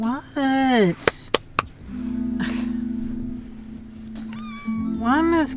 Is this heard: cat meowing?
yes